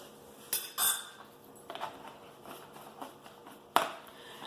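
A large spoon measuring milk for eggless pancakes clinks against a bowl or container in a few sharp metallic taps, one pair early, lighter clatter in the middle and a final bright clink, close and alone.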